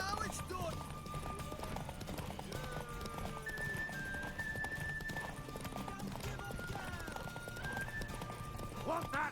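Clip-clop of horse hooves with occasional whinnies and neighs in the video game The Witcher 3: Wild Hunt, set against continuous background music and game ambience.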